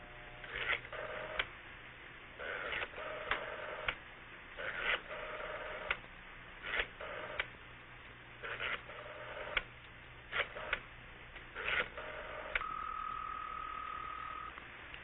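A telephone being dialed: a rapid series of about eight close touch-tone beeps, each short and evenly spaced with brief gaps, then a steady tone held at the end, narrowband and fairly clear.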